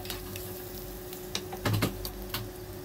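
Hot tempering with green chilli slits and curry leaves sizzles faintly as it is stirred into curd rice, with a brief louder burst of crackle and scraping midway.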